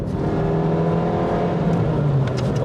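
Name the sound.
sports car accelerating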